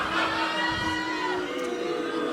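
A live podcast audience reacts audibly in a room, crowd voices groaning and murmuring together for a couple of seconds, fairly loud and overlapping with some talk.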